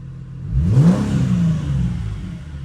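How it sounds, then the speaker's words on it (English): A car with a Flowmaster exhaust that still keeps its muffler and catalytic converters gives one brief rev: the engine climbs quickly from idle to a peak, then sinks back to a steady idle, close and clear with nobody talking. "I'll give it a little rev. We can see what it sounds like."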